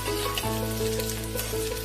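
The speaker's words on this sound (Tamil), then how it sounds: "கீ ஹீட் ஆனதால டக்குன்னு ஃப்ரை ஆகுது" Vegetables, carrot among them, fry in hot ghee for paneer fried rice, a dense and steady close-up sizzle that crackles continuously with no talk.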